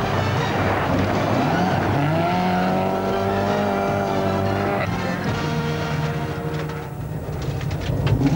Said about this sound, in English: how we end the day and I take you for a high-speed run